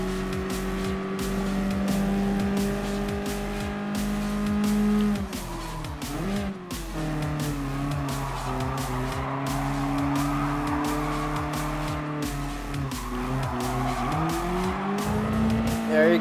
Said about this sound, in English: I'm just trying to go for power slide, not just ordinary drift.